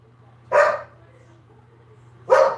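A dog gives two separate sharp barks, each a loud single bark spaced almost two seconds apart, over a low steady electrical hum indoors.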